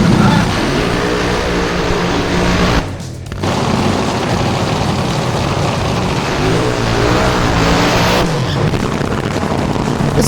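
A Top Fuel nitro drag racing car at a drag strip event roars loud and continuous across the clip, a dense, harsh engine blast with a brief dip near the start and no speech.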